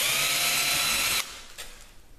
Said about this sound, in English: I'm going to pre-drill the hole for the hole saw.